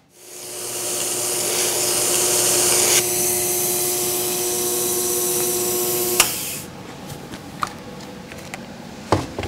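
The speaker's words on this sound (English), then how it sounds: "You keep grinding until you get something that you're satisfied with." A belt grinder convex-grinding a knife blade, a steady broadband whirring hiss with a tonal hum that runs loud and continuous for about six seconds, then stops, leaving scattered small clicks and taps.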